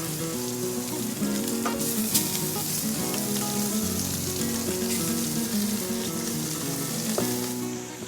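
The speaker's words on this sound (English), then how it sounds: "I'm going to lay them seasoned side down in this hot pan." Seasoned pieces searing in a hot pan on a Magdalena Bay cooking set, a steady broadband sizzle lasting the whole stretch with faint clinks and scrapes beneath it.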